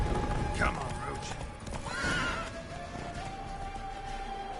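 Roach, Geralt's horse in The Witcher 3, gives a loud whinny early on and clops her hooves steadily throughout, with another neigh midway and faint game ambience beneath.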